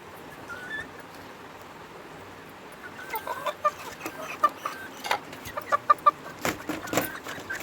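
A domestic country rooster clucks close by in short, irregular bursts, starting after a quiet stretch and growing busier toward the end.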